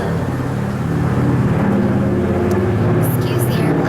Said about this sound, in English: That's one downside of filming outside. There's airplanes.